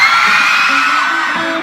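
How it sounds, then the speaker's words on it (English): Arena crowd at an Osaka pop-rock concert screaming even louder, a dense, piercing wall of high-pitched shrieks and yells that stays intense and tapers slightly at the end. "Can you scream louder?"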